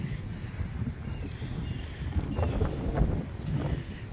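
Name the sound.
strong gusty wind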